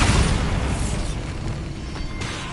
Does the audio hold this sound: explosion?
yes